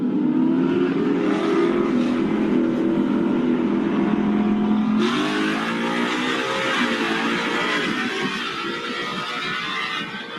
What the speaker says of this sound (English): Alex, I raced them on pump gas in my fully loaded Gen 3 Whipple Lund tuned car